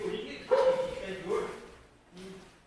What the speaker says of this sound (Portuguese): Olha, é cachorro